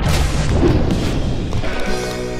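A smash wave explosion in the Dangerous Golf video game: a loud, dense crash and boom that fills the whole span, with debris clatter continuing and a tonal game sound rising toward the end.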